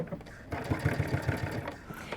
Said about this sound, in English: So I'm just going to sew this seam